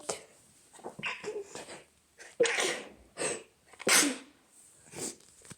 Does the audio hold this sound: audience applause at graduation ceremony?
no